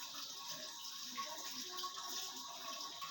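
Steady running water gushes continuously while something is washed, a soft, even splashing stream with no voices.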